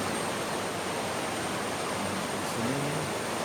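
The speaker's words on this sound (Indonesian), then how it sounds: "dapat kita saksikan derasnya arus sungai Asahan ya" The rushing current of the Asahan river heard from the bank among river rocks, a constant loud broadband roar of fast water that fills the whole clip without pause.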